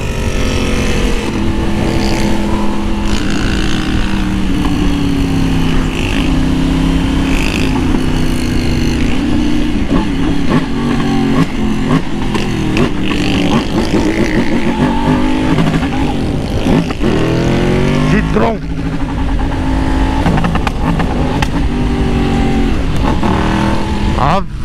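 A T9 motorcycle with a loud aftermarket exhaust, ridden in a motovlog at speed, drones and revs steadily up close throughout, its engine pitch rising and falling, with a rider talking over it.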